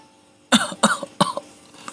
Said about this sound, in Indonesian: Aku yang sedang minum terbatuk-batuk sedikit tersedak karena terkejut